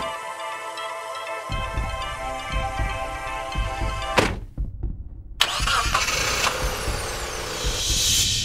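A Mitsubishi Airtrek Turbo R is started and pulls away for an acceleration test on a paved road: a steady idle hum, then a brief drop and a rising engine roar, close and fairly loud, with no talk.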